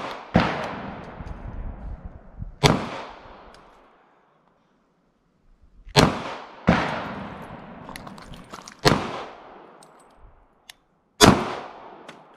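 Gunshots at an outdoor shooting range in Tennessee: six loud, sharp reports at irregular intervals, each with a long echoing tail, heard up close.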